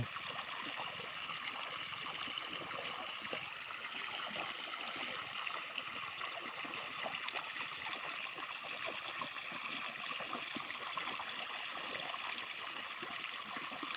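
Irrigation water runs steadily through a pigeon pea field, a continuous broadband trickling and gurgling flow that stays even and fairly faint from start to finish, with no voices.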